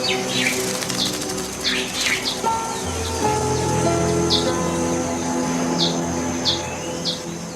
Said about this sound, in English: Its wings vibrate with a frenetic speed of 80 beats per second, becoming shadows almost invisible to the human eye.